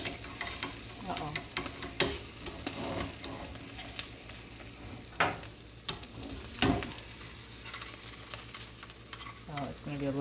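A veggie omelet fries in a pan with a continuous soft sizzle, punctuated by repeated spatula scrapes and taps against the pan.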